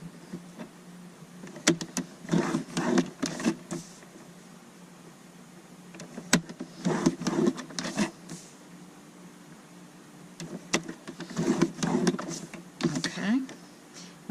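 Paper being scored on a Stampin' Up scoreboard, with scraping strokes in several short bursts and a small thump between them.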